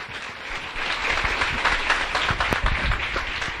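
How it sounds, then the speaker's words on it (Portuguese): A church congregation applauds together, dense clapping swelling after a moment and holding at a strong, steady level for a few seconds, close and lively in the room. "Vamos aplaudir ao Senhor"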